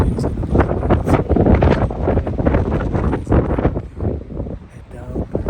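Strong wind gusting through a New South Wales state forest, buffeting the microphone with loud rumbling roars that rise and fall, with faint rustling on top.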